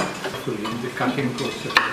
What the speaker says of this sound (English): stir it in with the sizzling onions